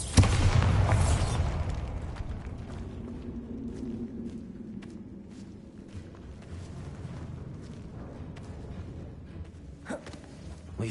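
A Bombarda blast in a Harry Potter game opens with a loud, close boom that rumbles and fades into a lower wash, with scattered small pops and a few faint footsteps after.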